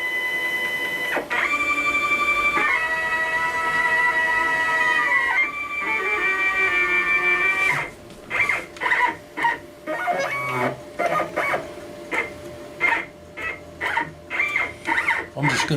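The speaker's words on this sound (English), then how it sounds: "I'm going to jog my machine to this first corner right here." A CNC machine jogs to the first corner of its work area, starting with sustained whining stepper-motor tones that shift in pitch, then breaking into short, repeated bursts of motor whine.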